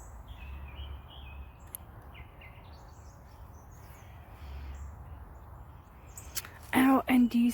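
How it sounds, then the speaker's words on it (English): Backyard birds, including doves, crows, a female cardinal and a robin, give faint scattered chirps and calls at a distance, followed by a few loud, close caws at the end. "I have nothing but birds in this yard."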